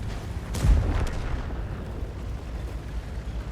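A tank gun fires in a World of Tanks-style video game involving an IS-3A and a Chimera, one deep boom near the start that rumbles and fades under steady low battlefield noise.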